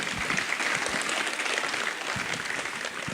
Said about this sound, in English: Please give Ron a round of applause.